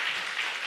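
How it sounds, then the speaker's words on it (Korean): A church congregation's warm applause, a dense, steady wash of many hands clapping together at moderate volume through the whole brief moment. "다시 한번 뜨거운 박수 더 쳐주시기 바랍니다"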